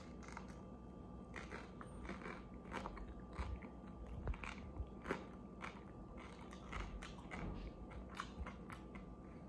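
Crisp crunches from biting into fried Shanghai spring rolls, followed by quiet, close chewing, with repeated bite clicks spread across a very faint, otherwise quiet background.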